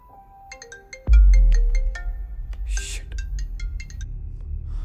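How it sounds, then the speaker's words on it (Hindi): A phone rings at night with a melodic ringtone, repeated bright tones that follow a thud and continue over a low rumbling background, close and clear. "ये रात को 1 बजे तुझे कौन फोन कर रहा है?"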